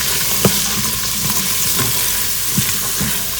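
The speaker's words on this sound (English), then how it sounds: "While my vegetables are cooking" Vegetables for chicken noodle soup cook in a pot with a loud, steady sizzle, punctuated by light stirring clinks and scrapes.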